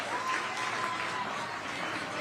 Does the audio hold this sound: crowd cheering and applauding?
yes